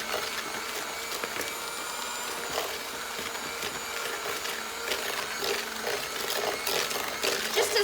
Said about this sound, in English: I need to mix these ingredients together using a whisk.